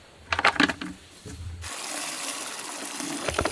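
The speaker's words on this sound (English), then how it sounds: "the way I scoop water out of it is with this massive, great big spoon" A massive spoon scoops water from a constantly flowing spring at a remote alpine hut, a few sharp splashes and clinks at first, then a continuous close gush of running water.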